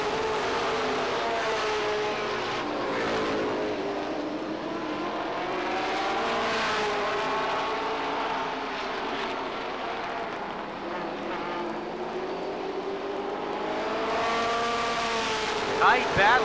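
Stock cars in a 1990 Winston Cup race at Lee USA Speedway roar down the backstretch as a steady, droning engine chorus that swells and fades in waves throughout, under a race announcer's commentary.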